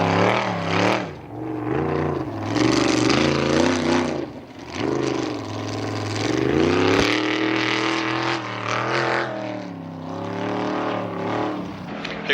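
Ultra4 off-road race car at the Ultra 4 Nationals in Lake Havasu, the race leader on its first lap, roaring loudly and continuously as it passes close by, the engine note rising and falling with revs.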